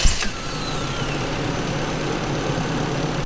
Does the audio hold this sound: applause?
no